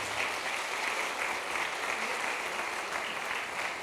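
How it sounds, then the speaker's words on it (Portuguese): Continuous applause from a church congregation at a Sunday service, a steady wash of many hands clapping at moderate volume for several seconds with no break. "vamos aplaudir Jesus, irmão"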